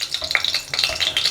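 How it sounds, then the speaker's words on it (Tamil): Oil crackles and sizzles close by in short popping bursts as whole spices (bay leaf, fennel seeds, cinnamon, cloves, cardamom) hit the hot pan. "எண்ணெய் சூடானதும் இதில் நம்ம தாளிக்கிற பொருள்லாம் சேர்த்துடலாம்"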